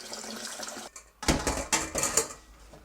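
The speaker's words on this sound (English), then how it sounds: "I'm just going to fill that up with cold water, giving it a stir" Cold tap water runs into a bowl while making rusk-less, gluten-free sausages, a steady pour then a short pause before louder splashing and sloshing as it is stirred, close and alone without talk.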